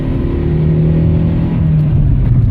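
Dodge Neon car accelerating at full throttle, engine roaring loudly and steadily from inside the car with a rising tone over a couple of seconds.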